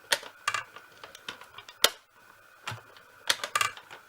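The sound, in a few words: die-cutting machine cutting paper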